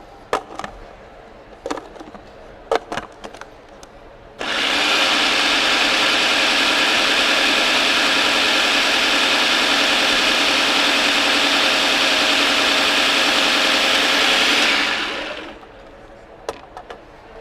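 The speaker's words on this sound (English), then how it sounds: "or you could do it in a KitchenAid." A KitchenAid stand mixer kneads pasta dough: after a few scattered knocks, its motor starts with a steady, loud whirring hum that runs for about ten seconds and then winds down, followed by more light clatter.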